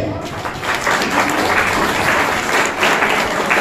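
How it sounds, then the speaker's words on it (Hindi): An audience at a Hindi business talk in Rohtak claps for itself, a loud continuous burst of applause swelling after a brief opening and holding steady to the end. "एक बार तालियां मार लें अपने लिए।"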